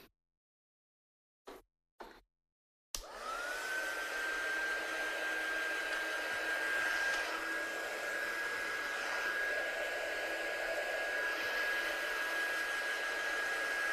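A hair dryer runs steadily, drying salt sprinkled over wet watercolour on a handmade coffee-textured card; after a few short bursts it settles into a continuous close whine with a constant high tone for about eleven seconds.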